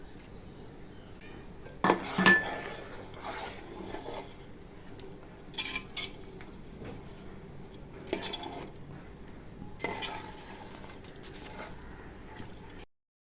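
A utensil stirs and scrapes inside a metal pot of sweet dough, with several clattering knocks and scrapes spaced out over a quiet, low background before the sound cuts off abruptly.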